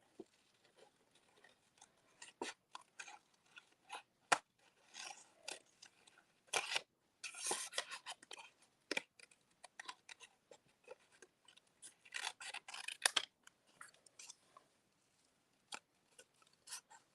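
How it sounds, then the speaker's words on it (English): Scissors snip around paper for card making, producing many small, close cuts in irregular bursts with quiet gaps between them and no talking. "I'm just taking my snips"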